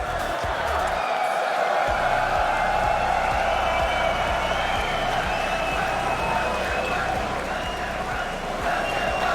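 A packed arena crowd at a Rocket League RLCS 22-23 Fall Split Major esports match roars with sustained cheering and applause, a dense, steady wall of noise throughout.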